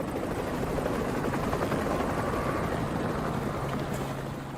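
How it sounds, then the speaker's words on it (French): Helicopter airlifting tons of soil and stones away from a worksite at Mont Saint-Michel, a steady loud rotor and engine roar that holds throughout, with no talk. "Des tonnes de terre et de pierres sont ainsi évacuées par hélicoptère afin de permettre la réfection du sol."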